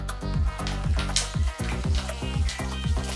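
Cumin seeds and curry leaves sizzling and crackling in hot oil in a pan while making guttivonkaya curry; loud, continuous frying hiss with sharp spattering pops, heard alone without talk.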